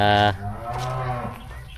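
One cow moos up close: a loud, resonant call lasting a bit over a second, trailing off at the end.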